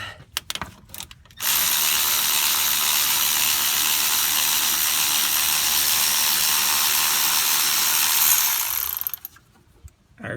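A ratchet spinning a standard 12-point socket on a water pump bolt of a 2008 BMW 535i, a long, steady, loud buzzing run of rapid clicks, close, after a few short clicks and without talking.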